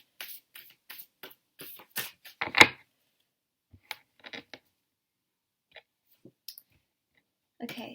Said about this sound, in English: Okay, so I'm just going to shuffle these cards.